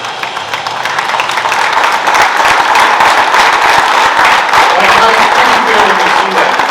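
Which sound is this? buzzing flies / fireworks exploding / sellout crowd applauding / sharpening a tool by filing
sellout crowd applauding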